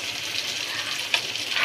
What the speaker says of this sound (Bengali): ভাজা হচ্ছে ভাজা হচ্ছে ভাজা হচ্ছে, একটু ভাজা হয়ে গেলে নামিয়ে নেবে